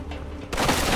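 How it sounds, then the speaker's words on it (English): A burst of gunfire erupts in the Mafia 2 Definitive Edition video game, a sudden loud crack of shots halfway through that leaves a dense, rumbling tail after a quieter lead-in. "Oh, God, a few shots."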